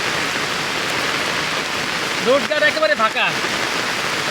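Torrential rain drums steadily over an empty road, an unbroken close roar of falling water while someone talks briefly in the middle.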